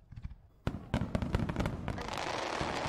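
Fireworks bursting in the VRChat video game, a quiet start broken by a sharp bang near 0.7 s, then several loud pops and crackles building into a dense, continuous crackling barrage.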